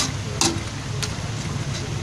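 Duck pieces and chili are stirred in a hot pan, with a steady sizzle underneath and three distinct scraping clicks of the utensil against the pan, spaced about half a second apart.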